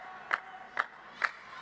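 A table tennis player at a men's and women's World Cup match in Macao gives three spaced, crisp claps. A quiet arena murmurs in the background.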